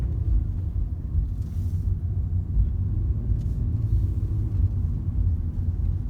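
A car driving along a road during a driving lesson gives a steady low rumble of engine and road noise from inside the cabin, constant throughout with light wind, no talking.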